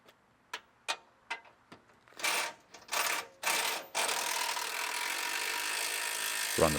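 A ratchet drives a control arm bolt home on a Pontiac G8 GT suspension, opening with a few sharp separate clicks, then moving into rapid bursts of ratcheting and a steady run of clicking, all close and with no talk.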